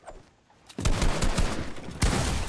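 Video game gunfire erupts after a short quiet moment as a loud, dense burst of rapid shots, then a second heavy volley kicks in, close and continuous with no voices.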